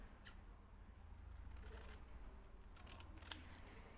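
Scissors snip through an appliqué fabric shape backed with Vliesofix, a few quiet, scattered cuts that end in one sharper click, close by and faint, with no talking.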